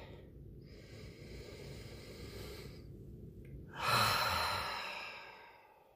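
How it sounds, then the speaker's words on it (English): A single deep cleansing breath, a slow drawn inhale followed by a long, softer exhale that fades out, heard close and quiet with no talking. "let's just take a deep cleansing breath"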